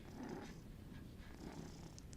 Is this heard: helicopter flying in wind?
no